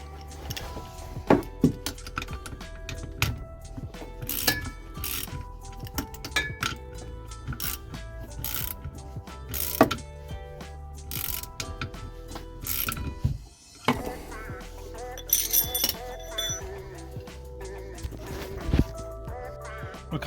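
A ratchet tightens the gear linkage pinch bolt on a VW T4 camper van, giving close series of quick clicking strokes broken by short pauses and small metallic knocks.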